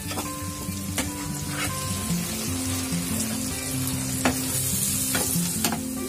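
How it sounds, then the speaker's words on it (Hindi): Ground tomato gravy frying in a pan for bottle gourd kofta curry, a loud continuous sizzle with occasional sharp stirring clicks against the pan, no voices. "ग्रेवी को भून जाने देते"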